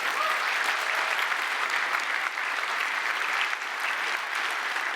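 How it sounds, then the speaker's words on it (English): Conference keynote audience at HashiConf 2018 applauding the Terraform team, a sustained, even roar of many people clapping in a large hall, filling the whole stretch. "can we just have one more round of applause for the whole Terraform team?"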